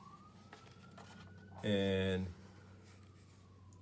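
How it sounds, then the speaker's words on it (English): Fire engine and truck sirens pass outside, heard as a faint wailing tone rising and falling behind a man reading aloud indoors, with a loud horn-like blast in the middle. "sorry for the sirens, folks."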